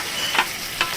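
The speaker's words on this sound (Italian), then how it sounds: "Quindi avete queste fettine sottili di fegato appena scottato in una padella rovente" Thin slices of liver sizzle in a scorching-hot pan for Venetian-style liver with onions, a steady close frying hiss with two brief louder spits or stirring bursts.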